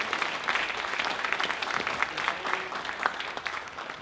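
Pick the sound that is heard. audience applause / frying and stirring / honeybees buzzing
audience applause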